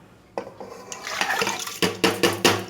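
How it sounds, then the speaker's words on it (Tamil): Pots and a pressure cooker clatter as soaked rice for a sweet kalkandu rice prasadam goes into the cooker, with sloshing water and several sharp metallic knocks in quick succession near the end, close and fairly loud, no talking. "இப்போ இது குக்கரில் போட்டு"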